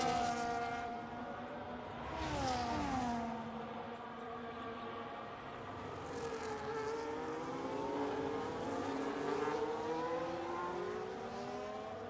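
Formula 1 race cars, an Alpine and a Ferrari, battling during a race at the Spanish Grand Prix, engines whining and shifting pitch at a moderate distance, sustained for about twelve seconds.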